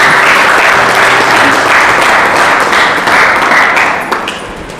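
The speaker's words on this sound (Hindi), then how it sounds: "प्रभु की केवल एक बहन ताली बजा रहे, आप लोग भी बजा दो" A church congregation applauding together during a Hindi sermon: loud, dense, continuous clapping from many people that holds steady and thins slightly near the end.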